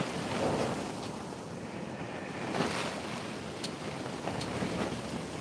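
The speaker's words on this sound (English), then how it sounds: "You can hear that wind swirling around out there, can't you?" Strong outdoor wind swirls and gusts, a dense continuous rushing roar with buffeting against the microphone, steady throughout with a few brief surges and no voices.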